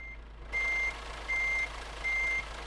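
Three evenly spaced reversing beeps from a truck in Euro Truck Simulator 2, steady and clear over a low engine hum, with no talk.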